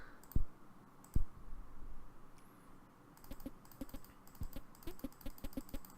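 Rapid mouse clicks while playing a small world-building video game, sharp close taps coming singly at first and then in quick irregular bursts.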